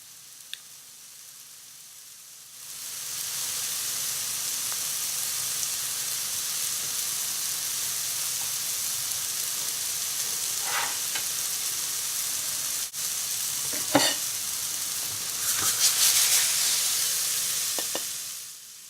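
Ginger yams stir-fry in a pan: after a brief quiet start, a steady, close sizzle and hiss set in and run to the end, with occasional sharper crackles and spatters partway through.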